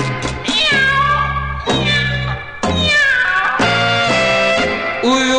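Loud, drawn-out cat meows repeat one after another, harmonic and whiny, close up with brief gaps between cries.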